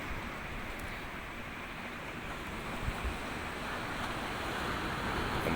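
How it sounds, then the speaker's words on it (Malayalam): Steady roar of sea waves and strong wind at a seaside temple, broad and continuous with gusty buffeting on the microphone, no voices. "നല്ല കാറ്റുണ്ട് മേളിൽ കയറി നിന്നിട്ട്"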